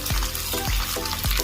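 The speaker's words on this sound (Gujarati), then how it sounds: "હવે આપણે કરશું ખમણનો વઘાર." Hot oil tempering for khaman, with mustard seeds, green chillies and sesame going in, gives a steady close-up sizzle broken by about four soft low thumps of stirring.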